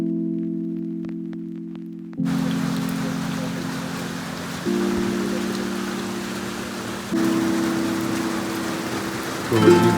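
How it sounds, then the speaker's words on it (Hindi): Steady rain falls in a continuous close hiss for most of the stretch, with a low steady hum running underneath and a brief louder shuffle at the very end. "तो बारिश फिर से रुकने का नाम नहीं ले रही है।"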